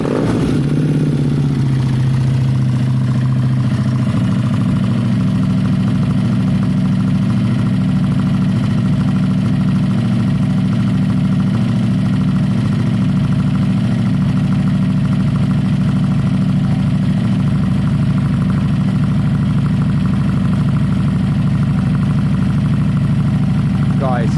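Suzuki Bandit 600 motorcycle engine idling steadily up close, a low continuous drone with light mechanical clatter that holds an even level throughout, with no talking.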